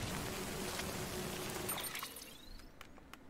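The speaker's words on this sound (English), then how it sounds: "Is it like full-blown raining out here?" Steady broadband hiss of rain falling in the video game Death Stranding, dense and continuous at first, then thinning and quieter toward the end with a few scattered drip-like ticks; no talking.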